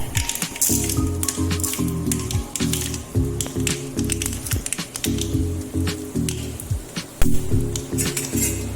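Mustard seeds spluttering and popping in hot oil, crackling bursts with clinks of a pan and utensil, no talking.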